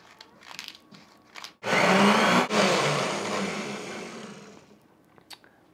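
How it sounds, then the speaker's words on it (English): A blender whirs loudly as it blends basil with salt and pepper, starting abruptly after a few faint kitchen clatters, briefly dipping, then running steadily and gradually winding down to quiet. "Now putting it into the blender."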